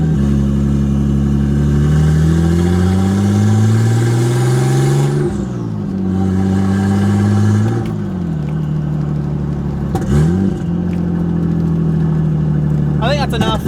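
A Nissan Skyline R32 engine loud while driving, revving up and easing off through several rising and falling pulls, close and prominent from inside the car.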